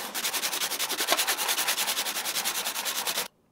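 A steel card scraper edge is rubbed back and forth on a 400 grit diamond stone, giving a steady run of about thirty quick, even rasping strokes, close and fairly quiet, ending abruptly.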